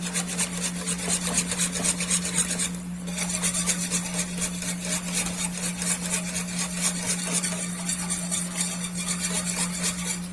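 A whisk or spoon stirs a roux into liquid for a mother sauce in a teaching kitchen, a steady rasping scrape repeating close up with a low constant hum behind, no talk.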